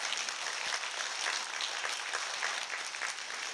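Audience at a free investment lecture breaks into sustained applause, a dense, even patter of many hands clapping at moderate distance for several seconds without talk.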